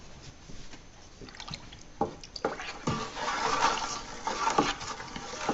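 Pectic enzyme, tannin and yeast nutrient being stirred into apple wine must, with soft liquid sloshing and irregular splashy swirls up close, growing busier toward the end.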